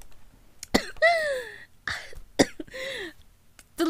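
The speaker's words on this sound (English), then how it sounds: "giving me this little cough attack here" A sudden fit of coughing, several sharp, rough bursts and throat-clearing rasps in quick succession, close to the microphone with brief pauses between them.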